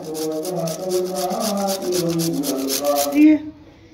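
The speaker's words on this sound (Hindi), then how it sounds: "मूली कद्दूकस कर रहे हैं।" Fresh radish is rubbed against a kitchen grater for stuffed paratha in quick, even rhythmic strokes, scratchy and close, while a voice chants continuously in the background until the grating stops near the end.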